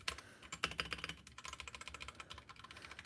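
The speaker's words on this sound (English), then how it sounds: "The ASMR keyboard sounds." Rapid clacking keystrokes on a mechanical computer keyboard, a dense steady run of close, crisp clicks lasting a few seconds, with no voices.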